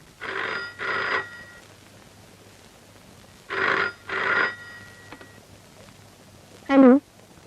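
An old telephone rings for a trunk call, two paired rings, a pause, then another pair, followed by a short vocal grunt at the end.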